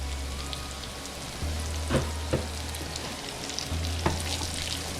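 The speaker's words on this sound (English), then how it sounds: "So now I am going to take and put my butter in." Butter sizzles in a hot pan with a constant crackling hiss, broken by a few sharp clicks and pops close by.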